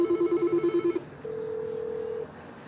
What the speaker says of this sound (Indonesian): telepon tujuan akan berdering